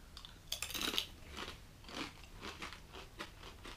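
Crunchy bites into a spicy dill pickle, several close, wet snapping crunches in an irregular rhythm, loud and near with no talking.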